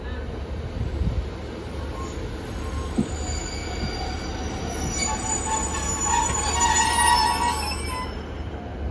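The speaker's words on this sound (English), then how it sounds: "Arriving now to 1635 Transport for Wales service from Penarth to Bargoed" A Transport for Wales passenger service from Penarth to Bargoed pulls into Cardiff Queen Street station, its wheels squealing high over a continuous low rumble of rolling stock, loud and close.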